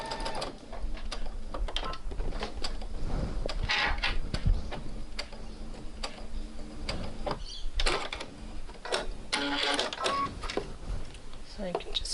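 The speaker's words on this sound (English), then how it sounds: "Again, back stitch at each end." Sewing machine back stitching fabric for a New Look 6575 garment, rattling in bursts of rapid mechanical stitching with brief pauses between them, close and fairly loud, with a voice talking intermittently over it.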